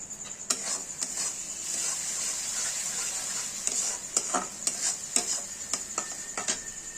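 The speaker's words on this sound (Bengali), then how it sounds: "1 থেকে 2 মিনিটের মতন আমরা কষিয়ে নেব।" Chole masala spices frying in a pan, with a steady high sizzle throughout and repeated scraping and clinking strokes as the paste is stirred, close and fairly loud.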